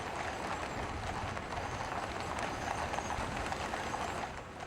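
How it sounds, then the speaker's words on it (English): Dense clatter of many horses' hooves as the King's Troop, 68 horses with riders, pull their guns through central London streets, a loud continuous clip-clop of a large mounted column passing close by. "68 horses and 50 riders pulling their guns through central London are quite a sight."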